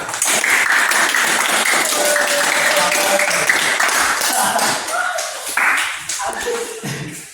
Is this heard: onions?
no